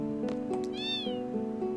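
A cat meows once in the Final Fantasy VIII game, a clear rising-and-falling cry over steady background game music, fairly faint and alone without talk.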